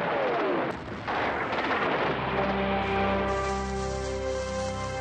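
Heavy-calibre German artillery fire over Warsaw, a dense roar of booming blasts and rumble that gives way to a sustained droning tone, loud and continuous with no voices.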